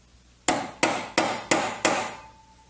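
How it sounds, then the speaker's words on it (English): Five sharp hammer blows tapping a nail to make a divot in a synthesizer's wooden case, evenly spaced about a third of a second apart, each ringing briefly, close and loud with no talking. "I'm going to use a nail and a hammer just to kind of make a little divot"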